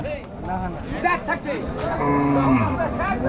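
A long, low cow moo rises above a busy crowd of overlapping voices and other livestock at a cattle market in Rajshahi, Bangladesh, close and loud.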